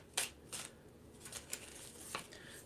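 Tarot cards being shuffled by hand, a few quiet, crisp riffling bursts separated by short pauses, close and faint with no voices.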